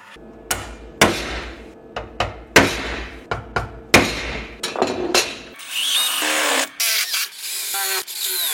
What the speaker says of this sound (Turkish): Şimdi buranın delme işlemlerini yapacağım.